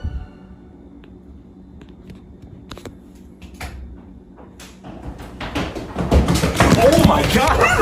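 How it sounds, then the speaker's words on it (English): A basement door repeatedly swings open and slams shut, scattered knocks and thuds building into louder, denser banging toward the end, heard from another part of the house. "Harry and his wife hear a door in the basement repeatedly opening and slamming shut"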